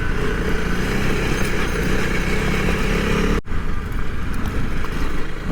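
Steady, loud motorcycle engine drone while riding a bike on the Big Bend 400 ride before dawn, continuous wind and road rumble throughout with a brief dropout partway, no talking.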